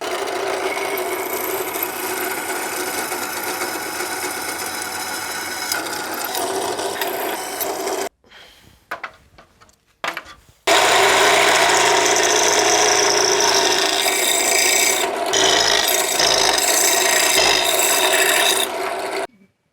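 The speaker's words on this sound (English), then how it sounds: "We got 4 holes drilled now." A power drill grinds steadily into metal, pauses briefly with a few quiet clatters, then bores again louder and harsher.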